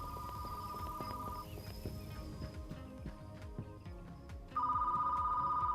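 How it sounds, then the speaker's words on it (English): An old-style telephone bell ringing in the retro video store game Retro Rewind, a rapid metallic trill heard in two bursts, one at the start and a louder one near the end, with rhythmic clopping footstep-like sounds between them. "I can hear the phone from here."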